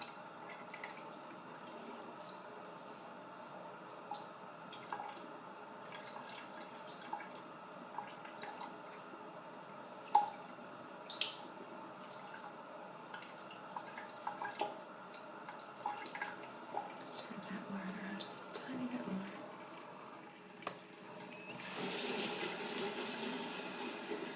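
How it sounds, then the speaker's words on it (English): Water runs quietly over hair during a gentle hair wash, a soft steady trickle with light drips and splashes, swelling louder near the end. "So I'm going to start by wetting your hair."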